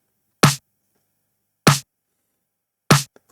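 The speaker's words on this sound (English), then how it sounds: "Together, snare and clap sounding like this." Layered snare and clap drum samples for a pop production strike together three times at even intervals of about a second and a quarter, each hit sharp, bright and short with a quick decay, alone with no talk.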